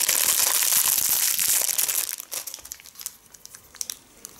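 A 26 cm RGB ring lamp being unpacked from its plastic bag produces loud, close crinkling and rustling that eases after two seconds into sparser, quieter crackles.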